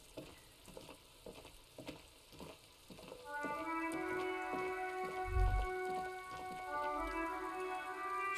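Steady rain pattering and dripping in the video game Disco Elysium, a soft, continuous hiss with scattered drips, later joined by a sustained tonal musical layer.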